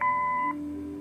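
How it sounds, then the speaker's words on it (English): An answering machine beep from the Kathy Rain video game sounds as a single clean electronic tone lasting about half a second, with a steady faint hum beneath it that carries on after the beep ends. "Leave a message after the beep."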